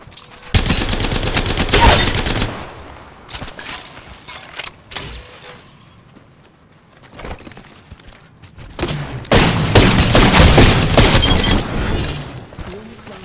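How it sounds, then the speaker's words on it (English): Gunfire in the Apex Legends battle royale game: loud, dense bursts of automatic weapon fire with impacts and shattering sounds, in two heavy stretches separated by a quieter lull with scattered shots. "Getting shot at."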